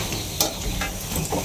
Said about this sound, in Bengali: সীমা এদিকে পাট শাকের বড়া করে আলতেছে